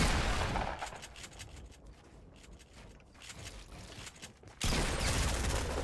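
Gunfire in the video game Fortnite comes as dense, loud bursts of shots, with a rapid crackle through the middle and a heavy, sustained blast at the end.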